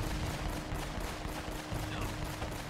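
Rapid gunfire in Uncharted: Drake's Fortune, a steady stream of repeated shots at a regular rhythm, fairly quiet and continuous throughout.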